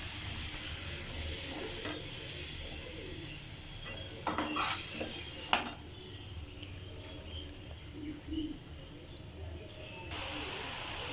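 Chopped bottle gourd pieces sizzle and hiss in a hot pan while being stirred, with a few sharp scrapes and clinks of a utensil against the metal, steady frying throughout.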